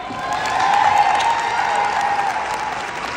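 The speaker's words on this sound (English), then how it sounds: "round of applause" Steady applause from a crowd, dense clapping holding at a constant loud level throughout with no talking.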